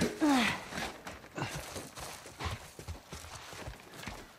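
Horse hooves clip-clop at a steady walking pace in The Last of Us, the dull knocks moderately close, opening with a brief breathy snort or whinny and some faint game ambience.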